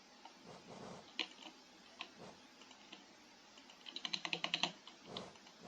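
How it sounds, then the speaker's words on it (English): Someone types on a computer keyboard during a Hollow Knight game session, producing scattered single clicks and then a quick burst of about ten rapid keystrokes. The clicks are close and crisp and sit over quiet background hiss. "for some reason my keyboard isn't working correctly"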